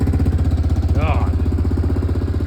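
The engine of a 1998 Yamaha Grizzly 600 ATV idles in a loud, steady, close-up rhythmic chug throughout, and a brief voice-like sound rises over it midway.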